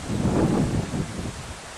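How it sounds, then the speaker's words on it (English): Hurricane Florence winds blow through trees in South Carolina: a loud, close, continuous rushing roar of gusts and rustling foliage, strongest at first and then easing slightly. "even though the winds are blowing at a decent rate"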